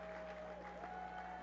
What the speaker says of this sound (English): And a nice round of applause for them